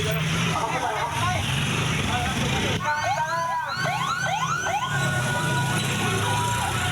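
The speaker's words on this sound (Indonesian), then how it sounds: "sekitar 20 ambulans berdatangan ke lokasi kejadian" Wailing ambulance sirens rise and fall over loud, steady street noise, with several sweeping tones overlapping near the middle as about 20 ambulances arrive after an explosion at an army ammunition warehouse.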